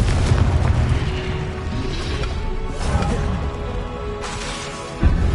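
Confringo fire spell blasts in the video game Hogwarts Legacy: a dense, continuous rumble of booming explosions and whooshes with a sharp impact near the end, no talk.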